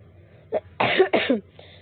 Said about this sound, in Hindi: सॉरी, तबीयत ठीक नहीं है तो मेरी खांसी को नज़रअंदाज करें।